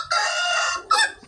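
A backyard rooster crows loudly and close, one long drawn-out call, followed by a brief clucking note from the farm chickens.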